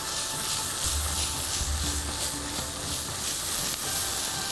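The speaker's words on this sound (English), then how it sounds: "This is being fried." Onion frying in a pan with a pinch of salt: a loud, continuous sizzling hiss fills the whole stretch, steady and close, with no talk over it.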